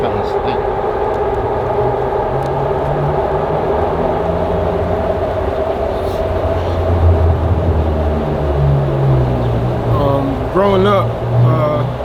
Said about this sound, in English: 1 second, let me just wait for the train to pass.